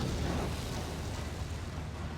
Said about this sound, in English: Let's throw a frag grenade in that direction.